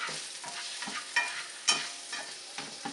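Yellow pear tomatoes fry in a pan over medium-high heat, a steady sizzle broken by scraping spatula strokes, with a couple of sharper clacks standing out.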